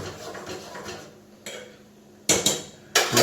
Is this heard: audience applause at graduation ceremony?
no